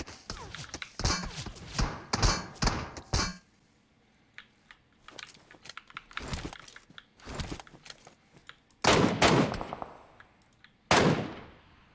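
Gunfire in the mobile battle royale game PUBG Mobile: several bursts of sharp shots in quick clusters, loud and close, separated by quieter gaps, with a final heavy burst near the end.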